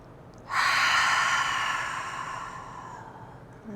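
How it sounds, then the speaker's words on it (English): A single long, deep inhaled breath starts abruptly and slowly tapers off, close and clear in a quiet room, taken as a cleansing breath during a guided relaxation exercise. "give yourself a cleansing breath"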